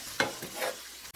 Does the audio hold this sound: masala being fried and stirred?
yes